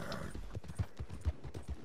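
Horse hooves clip-clopping in a video game, a steady run of low thuds with a few louder hits and a faint whinny-like tone, fairly close and with no talk over it.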